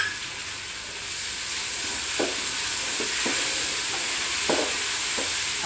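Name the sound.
garlic paste frying and being stirred in a pan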